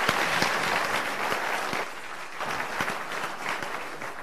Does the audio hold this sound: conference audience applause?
yes